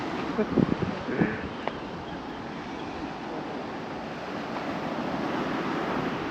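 Sea waves wash onto a beach at Phu Quoc island with a steady broad roar and some wind buffeting, while a person speaks briefly at the start.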